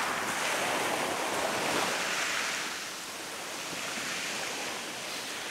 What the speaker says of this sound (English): I hope you can hear me over the waves here